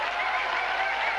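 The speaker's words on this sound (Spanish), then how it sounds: "Un fuerte aplauso para nuestra orquesta" Studio audience on a 1993 New Year television variety show applauds the house orchestra, a brief, continuous wash of clapping with a slightly muffled, tape-worn tone.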